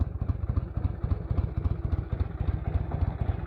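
A 1982 Harley-Davidson FLH motorcycle engine idles just after startup, a loud, close, steady loping potato-potato beat with uneven pulses and some mechanical clatter, no talking.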